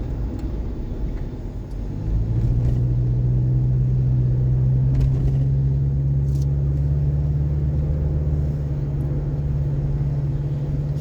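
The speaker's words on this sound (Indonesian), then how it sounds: "Masih beriring-iring juga mobil di depan kita." Cars travel in a line along a road, heard from inside a vehicle as a steady low engine and road rumble that swells after a couple of seconds and holds evenly, with no talk.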